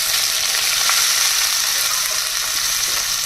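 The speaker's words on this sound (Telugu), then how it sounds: "ఇదిగోండి ఆయిల్ వేడైంది ఉల్లిపాయలు పచ్చిమిరకాయలు వేసేసుకోవాలి" Onions and green chillies hit hot oil in a pan with a loud, steady sizzle that holds evenly throughout, bright and hissing, with no voices.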